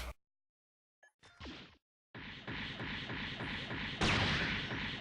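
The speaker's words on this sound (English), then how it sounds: "Long-range scattering gun, very nice. With a stun, by the way." The long-range scattering gun in SD Gundam Online fires with a sharp whoosh burst, then a sustained, loud rapid volley of blasts that swells near the end.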